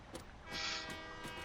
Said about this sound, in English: Honk the horn, beep beep.